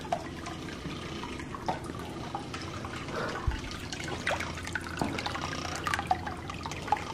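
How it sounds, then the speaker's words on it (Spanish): Water falls steadily into a home aquarium, a continuous trickle and splash with small drips, moderately loud and close, with no voices. "me super relaja el sonido de la caída del agua"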